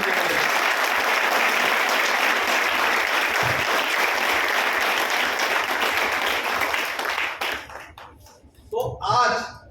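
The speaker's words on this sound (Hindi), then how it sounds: "एक बार अपने अपलाइन के लिए जोरदार ताली दीजिए" Loud applause from a seminar audience, dense steady clapping that fades out near the end as a voice begins speaking.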